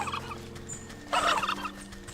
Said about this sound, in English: the turkeys are super aggro in this game